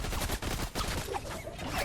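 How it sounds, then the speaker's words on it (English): Rapid gunfire bursts from a sniper rifle and other weapons in the Fortnite video game, loud, dense and continuous across the whole stretch, with no talking. "And he gets sniped."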